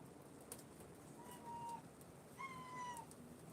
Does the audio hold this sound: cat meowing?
yes